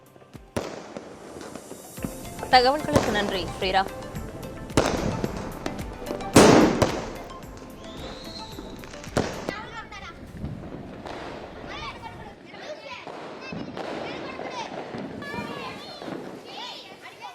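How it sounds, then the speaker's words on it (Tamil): Diwali firecrackers and fireworks bursting at night in a Tamil Nadu city, loud sharp cracks and bangs, some close and some distant, scattered throughout with a voice speaking over them. "தற்போது வண்ண வண்ண பட்டாசுகளை வெடித்து சிறுவர்கள் முதல் பெரியவர்கள் வரை உற்சாகமாக கொண்டாடி வருகிறார்கள்."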